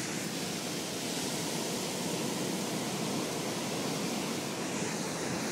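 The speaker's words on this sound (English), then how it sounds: "Down by the ocean, listening to the waves, watching the waves." Ocean surf rolls in at the beach, a broad, constant rushing hiss of breaking waves at steady loudness with no voices present.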